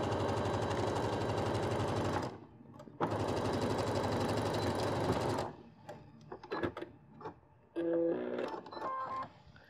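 A sewing machine stitching a zip seam runs in two loud, fast bursts separated by a short pause, followed by scattered clicks and handling sounds with a few brief tones.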